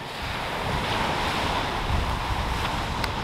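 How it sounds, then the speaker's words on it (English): The Niagara River crashing along Lakeshore Road near Buffalo, heard as a loud, continuous roar of rushing water blended with heavy wind buffeting the microphone, with no talking. "Niagara River crashing away behind me."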